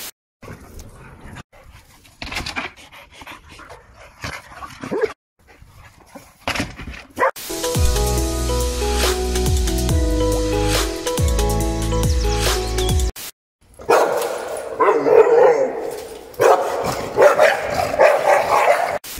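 American Pitbull sport dogs bark and whimper in bursts, with a stretch of loud, steady rumbling noise in the middle and excited yelps and panting toward the end.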